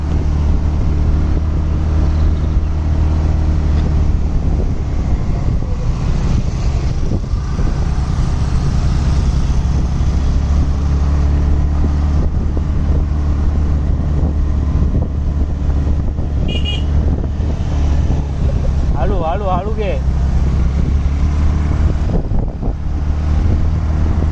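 A car climbs a hill road near Lonavala, its engine rumbling loudly and steadily beneath heavy wind buffeting on the microphone, with a faint brief toot partway through.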